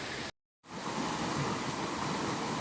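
Waterfall beside a bush track in Hanmer, a steady broad rushing roar of falling water heard close and fairly loud, cut by a brief gap of silence near the start.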